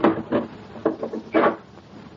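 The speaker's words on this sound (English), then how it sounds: "Close the door. Lock it, Gina." A wooden door swings and shuts in a series of dull knocks and thumps, close and fairly loud, with a final clunk as it closes.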